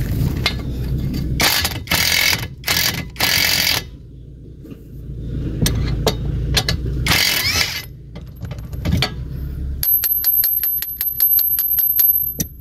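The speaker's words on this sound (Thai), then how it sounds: "ยิงแป๊บเดียวน็อตทั้งหมด6ตัวครับ" An impact wrench rattles off rusty nuts from a tractor wheel in an outdoor setting, giving loud repeated bursts of hammering ratchet noise with short pauses, then a rapid run of sharp clicks at the end.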